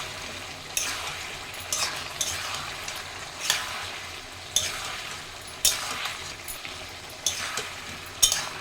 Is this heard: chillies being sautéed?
yes